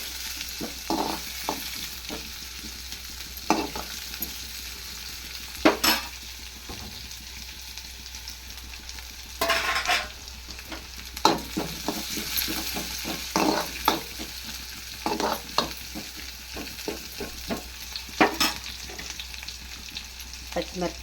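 Wheat flour snacks fry in hot oil, a continuous soft sizzle under intermittent stirring scrapes and clinks of a utensil against the pan, close and steady throughout.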